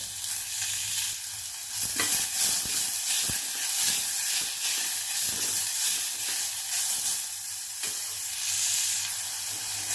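Onions sizzle and fry in a pan for carrot ginger soup, giving a continuous close hiss with scraping stirs and crackles throughout.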